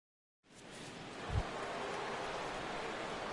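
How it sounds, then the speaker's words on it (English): Steady rain falls on a baseball game in a PS4 broadcast: a constant soft hiss begins abruptly after a short silence and holds evenly, with one low thump early on. "Rain continues to fall here in the 6th."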